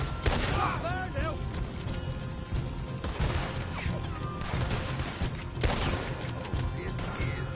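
Sustained volley of gunfire in the Western video game Red Dead Redemption 2, with repeated sharp shots and crashes spread through the scene over a dense backdrop, while voices talk intermittently.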